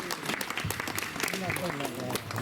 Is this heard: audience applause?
yes